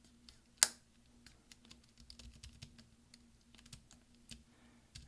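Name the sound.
MacBook Pro shift key clips snapping into place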